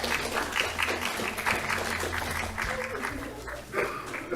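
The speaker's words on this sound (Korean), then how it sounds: "더 큰 박수로 한 번 더 환영해 주시겠습니다" Church congregation clapping in welcome during a Korean Presbyterian service in Hawaii, moderate applause with a dog barking and some voices mixed in underneath.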